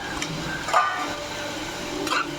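Grated carrot is sautéed in a pan, with a low steady sizzle broken by a couple of brief scraping stirs of a spoon against the pan.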